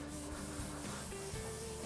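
A burgundy Scotch-Brite pad, roughly 240 grit, scuffs over epoxy-primed car body panels before filler, making a continuous close abrasive rubbing that stays steady and fairly loud throughout with no talk.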